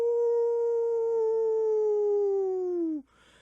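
A human voice imitates a dog howling, holding one long, loud, clear note that slowly drops in pitch for about three seconds and then cuts off.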